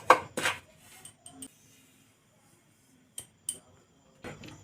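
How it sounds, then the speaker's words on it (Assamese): Fried semolina scraped from a pan onto a plate gives a few sharp metallic clinks and scrapes in short bursts, separated by quiet gaps, close by. "এতিয়া এখন কাঁহীত নমাই ল'ম।"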